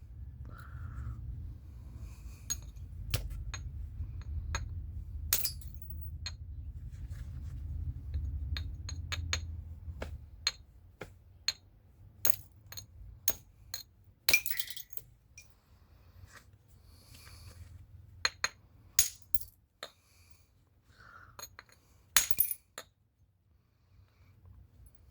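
Flint knapping on a stone spall being worked toward a biface: a series of sharp, bright clicks and cracks as flakes are struck off, irregularly spaced and close, with a low rumble early on that fades, no talking.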